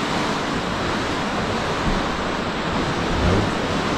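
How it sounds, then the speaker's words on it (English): Sea waves wash steadily onto the beach at the Naresdamri seafront in Hua Hin, Thailand, a continuous, full surf roar with some wind and no voices. "listen to the waves."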